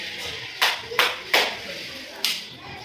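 Four sharp hand claps, three in quick succession and one after a pause, ring out over a faint background murmur.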